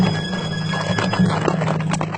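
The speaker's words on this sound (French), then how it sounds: "il entendit un bruit de galop" Horses gallop in a dense, continuous rush of hoofbeats with a whinny rising over it, loud and close throughout.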